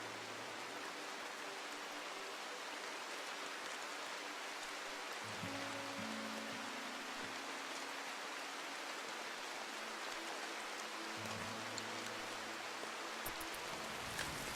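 Rain ambience from the video game RimWorld, set in a foggy boreal forest, gives a steady, even hiss of falling rain throughout, with faint low tonal hums drifting beneath.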